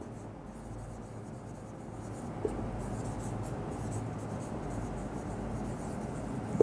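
Chalk or marker scratching steadily on a board during a physics lecture in a classroom, a continuous dry scraping texture with small taps, moderately close and without talking.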